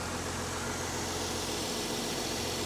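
A truck engine idles in place, a steady low rumble with constant broadband noise and no change in pitch, close and continuous with no talking.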